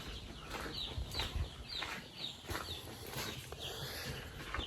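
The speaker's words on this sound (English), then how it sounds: "We have 72 chicks here" Chicks in a farm brood pen of about seventy birds, peeping in quick, high, repeated calls that overlap and rise and fall at moderate volume, with no talk.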